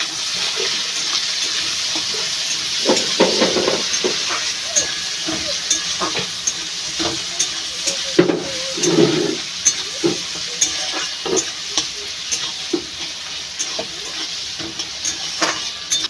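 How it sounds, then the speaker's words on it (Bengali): Chopped onion and tomato fry in a pan with a steady sizzling hiss, broken by frequent scraping and clattering stirs that grow busier midway. "কেটে রাখা পেঁয়াজ টমেটো দিয়ে ভালো করে ভেজে নেব।"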